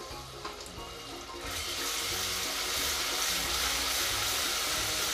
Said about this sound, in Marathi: मसाले व्यवस्थित भाजून घ्यायचे तेलामध्ये. तर त्याच्यामध्ये 1 चमचा आले लसणाची पेस्ट घालायची आहे